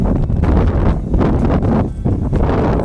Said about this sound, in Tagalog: Maririnig nyo naman dito yung weather ba, mahangin.